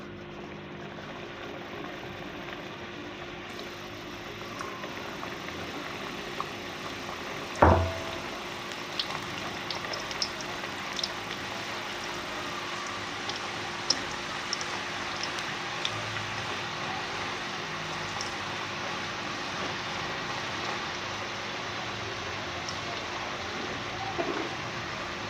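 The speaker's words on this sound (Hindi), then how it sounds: "घी गरम कर लिया हमने कढ़ाई में, अब हम इसमें नमक वारे फ्राई करेंगे" Namak pare frying in hot ghee in a kadhai, a steady, even sizzle and bubbling hiss continuing throughout, with a single brief clink near the start and small crackles scattered over the bed of frying.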